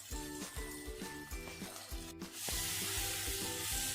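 Onion and tomato fry in a pan for a spicy Bengali fish curry, giving a steady close sizzle. A spatula stirs in a regular rhythm, and the hiss swells louder and brighter toward the end. Faint tonal sounds run underneath.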